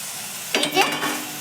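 Potatoes and okra drop into hot oil with cumin, coriander and mustard paste, setting off a brief, sharp sizzle burst that settles into a soft crackle within a second.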